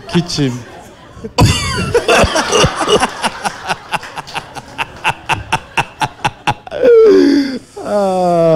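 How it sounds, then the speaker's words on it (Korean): A long run of rapid, rhythmic coughs, loud and close, followed by a gasping breath and a brief voice. "기침해봐 기침"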